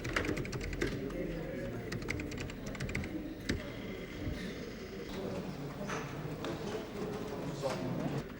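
A computer keyboard tapped in a 1995 college computer room, steady close clicking that runs under a busy, noisy room background with some voices.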